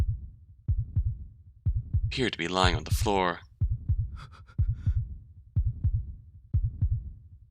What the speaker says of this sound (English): His heartbeat skyrocketed.